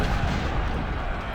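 Artillery barrage in the video game Ultimate General Civil War at Gettysburg, a dense continuous rumble of cannon fire with no single distinct shot standing out, loud and sustained throughout.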